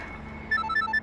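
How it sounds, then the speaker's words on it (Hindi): An electronic telephone ringtone trills in a short repeating melodic pattern, loud and close, starting midway after a brief quiet room tone. "ठुमरी से भी ज्यादा जरूरी रणवीर का फोन है।"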